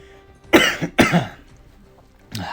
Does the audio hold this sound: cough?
yes